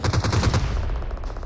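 Rapid automatic gunfire in PUBG Mobile, loud and close, a quick burst of evenly spaced shots that drops to quieter, more distant shots.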